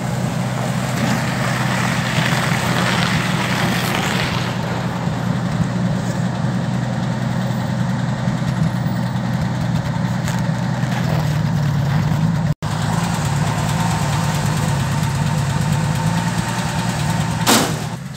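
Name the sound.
1961 Bombardier narrow gauge engine idling, warming up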